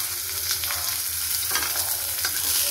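Raw mango pieces with salt stirred in a hot pan for Indian-style chutney, giving a continuous close sizzle with soft scraping strokes of a spatula against the pan.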